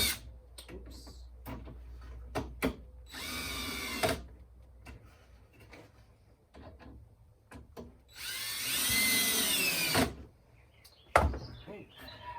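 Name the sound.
power drill driving screws into Flow Hive leg kit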